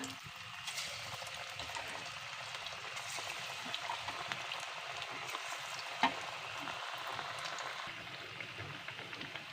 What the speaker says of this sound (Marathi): तेल आपलं तापलेला आहे चांगला आता त्याच्यामध्ये हे वडे सोडून घेऊया